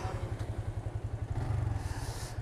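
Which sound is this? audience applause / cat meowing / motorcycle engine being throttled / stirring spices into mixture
motorcycle engine being throttled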